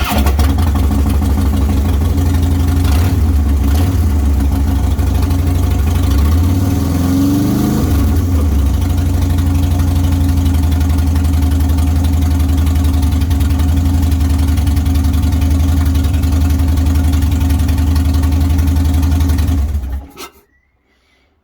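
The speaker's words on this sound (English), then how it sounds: "Certainly still allows me to fire up the bike, which is great." A motorcycle engine rumbles at a steady idle for about twenty seconds, loud and close, with a brief throttle swell early on, then cuts off abruptly into silence.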